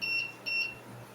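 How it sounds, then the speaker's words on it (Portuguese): A multimeter in continuity mode, probes touching the terminals of a good internal coil, gives two short, high electronic beeps in quick succession over a faint background hiss. "E o bip sonoro é emitido."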